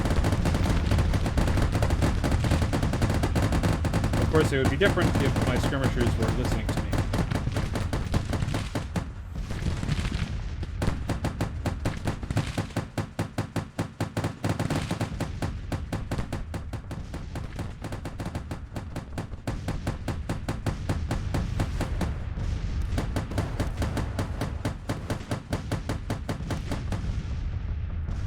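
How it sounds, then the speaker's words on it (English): Rapid Gatling gun fire rattles through a Civil War strategy game battle on the Virginia Peninsula, a long dense stream of bursts broken by short pauses, with someone talking over it. "I don't think Gatling guns are really good weapons,"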